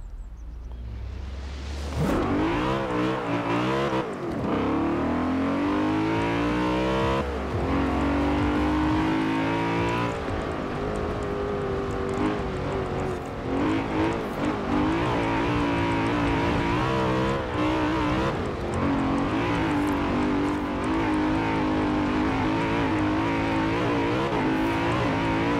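A stock 2002 BMW M3-GTR race car's engine roars loudly in Forza Horizon 4 as it drives cross country, revving up hard from the start and then holding a sustained, rising and falling howl through gear changes.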